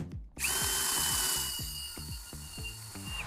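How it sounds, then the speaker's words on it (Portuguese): A power drill pre-drilling a hole in a wooden deck base, its motor whining steadily and loud up close, with rhythmic low knocks as the bit cuts through the hardwood. "E aí você faz o furo novamente."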